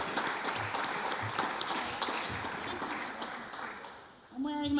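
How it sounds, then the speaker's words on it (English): Audience applause at a winter farmers market celebration in Dorchester, a steady wash of clapping from a crowd that runs through the whole stretch, with a brief tonal sound rising at the very end. "Let's give her a big round of applause because she's a big supporter of farmers markets."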